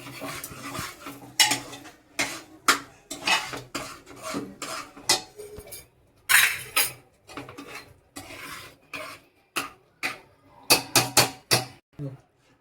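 Khichdi stirred in a pot after the spice tempering goes in, a string of close scraping, rasping spoon strokes in irregular bursts, with a voice talking between them.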